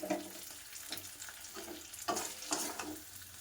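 Bitter gourd chorchori sautéed in a pan over lowered gas, a quiet sizzle broken by several scraping stirs of a spatula, close and faint.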